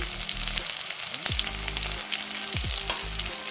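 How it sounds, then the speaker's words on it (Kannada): Green chilies and garlic fry in oil for a bottle gourd dish, with a dense, loud, continuous sizzle and a low droning hum with brief whining sweeps beneath it. "ಸ್ವಲ್ಪ ಹೊತ್ತು ಫ್ರೈ ಮಾಡುವ"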